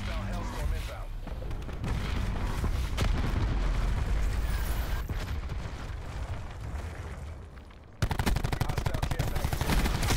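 Gunfire in Black Ops 4 multiplayer: dense, loud rattling shots and booms run throughout, ending in a hard rapid automatic burst, while a voice talks over parts of it.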